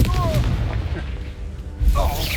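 A Confringo spell explosion in Hogwarts Legacy booms deep and loud, with a rumbling low body and a second blast near the end, while a voice speaks over it.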